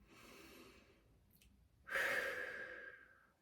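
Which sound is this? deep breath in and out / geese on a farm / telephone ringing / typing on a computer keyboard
deep breath in and out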